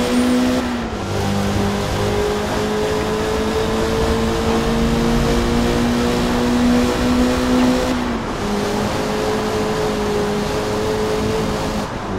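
A Mazda MX-5 race car engine drones steadily in a Forza Motorsport race, its pitch holding high then dropping at shifts around eight seconds, loud and continuous with no talk.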